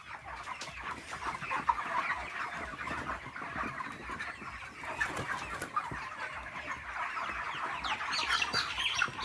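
Broiler chickens at a poultry farm cluck and squawk continuously, many birds at once, a busy layered chorus of fowl filling the space with no talking.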